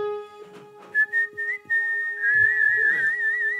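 A person whistles a wavering, sustained tone with a few short breathy bursts before it, close and clear in a quiet room with faint steady hum beneath.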